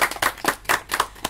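Hand clapping follows a recital of a Baudelaire poem, a brisk run of about seven sharp, close claps at a steady rhythm, loud and with no talking over them.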